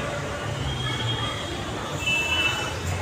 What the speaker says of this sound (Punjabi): ਮੈਟਰੋ ਸਟੇਸ਼ਨ ਅੰਡਰਗਰਾਉਂਡ ਟ੍ਰੇਨ ਚੱਲਦੀ ਧਰਤੀ ਵਿੱਚ ਕਲਕੱਤਾ